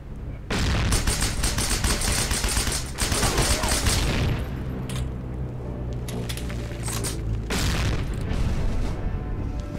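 In Heroes & Generals, an MP40 submachine gun fires in long, dense bursts of rapid automatic shots, loud and close, broken by a short pause and ringing echoes.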